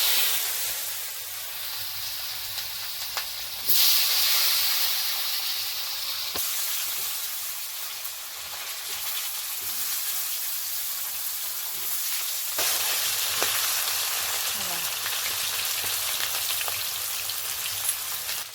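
Oil sizzles and hisses steadily in a pan while frying ingredients for a Bengali fish and green-banana dish, a dense rain-like crackle with a few surges and clinks, no talking.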